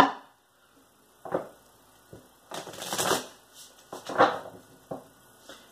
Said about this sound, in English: I'm getting two more shuffles here